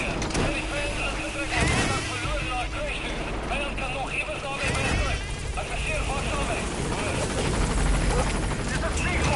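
The Pequod helicopter from Metal Gear Solid 5 approaches a landing zone, its rotor drone loud and continuous under radio chatter and other game sounds.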